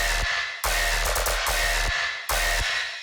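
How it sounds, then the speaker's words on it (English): A heavy, aggressive tearout dubstep bass sample with muddy low-mid frequencies left uncut plays as loud, distorted chopped bursts in a rhythmic pattern, with sharp gaps between hits. "And so without our slice EQ getting rid of those muddy frequencies, it sounds like this."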